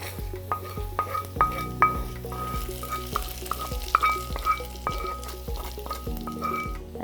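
A tempering is tipped into a chayote and dal curry, hissing steadily while a spoon scrapes and clinks against the pot in repeated strokes, close and clear with no voices.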